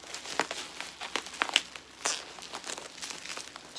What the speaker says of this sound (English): I'm really struggling to get this parcel open